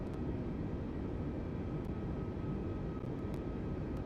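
An airliner taxiing in Microsoft Flight Simulator gives a steady low engine rumble and whine, constant and moderately loud throughout, with no voices.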